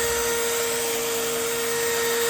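A drill spinning a sponge pad loaded with polish on a faded car headlight gives a steady, close motor whine with an even tone and no breaks. The broadband whir continues without talk throughout.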